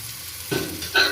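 Ingredients sautéing in hot oil in a pan for tomato chutney, a short burst of frying and stirring that swells twice, close and fairly loud with no voices.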